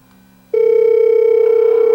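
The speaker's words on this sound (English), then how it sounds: "I'm going to make a phone call and see how this thing answers" A Tivdio HR-11W camping emergency radio plays an incoming phone call through its speaker as a loud, steady electronic ringing tone that starts abruptly after a quiet moment.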